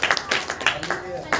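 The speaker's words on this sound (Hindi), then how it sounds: "ताली बजा के" A congregation at a Saturday church prayer meeting claps hands: a few irregular, sharp claps over about a second and a half, mixed with voices.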